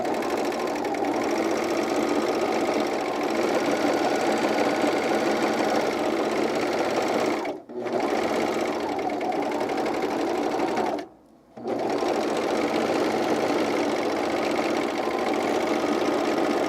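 A sewing machine stitches underwear fabric in a long, steady, close mechanical hum, broken by two brief pauses where the motor hesitates and stops before running on.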